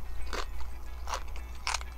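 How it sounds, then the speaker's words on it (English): Three crisp crunching bites into tortilla chips dipped in guacamole, evenly spaced and close to the mic, each a short burst standing out against a low steady background hum. "Let's take a bite of everything here. I'm going to do some chips into the guacamole."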